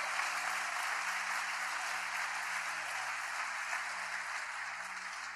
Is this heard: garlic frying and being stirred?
no